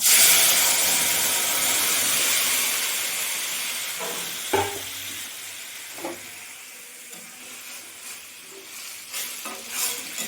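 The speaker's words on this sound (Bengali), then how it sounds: "এরপরে আমি তরকারিটা ঢেলে দেবো।" Curry is poured into a hot pan and erupts in a loud hissing sizzle that gradually softens into a gentler simmer, with occasional clinks of a spoon stirring, no talking.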